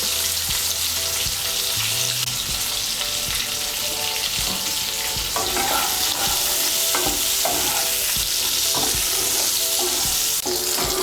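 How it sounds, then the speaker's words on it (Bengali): Sliced pointed gourd fries in oil with salt and turmeric in a pan, a loud steady sizzle with repeated scraping and stirring clatters of a utensil, close up and without talk. "দিয়ে পটলগুলোকে আমি ভালো করে ভেজে নেব।"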